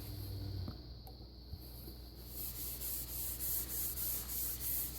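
Mineral oil being rubbed by hand onto a wooden French rolling pin, a soft continuous rubbing hiss that turns into rhythmic back-and-forth strokes toward the end.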